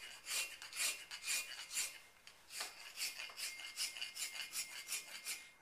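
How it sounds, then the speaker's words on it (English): Rasp filing carved stone to remove flat chisel marks, repeated gritty scraping strokes in a steady back-and-forth rhythm, close up but quiet, with no voices. "remove all the marks made by the flat chisel with a rasp"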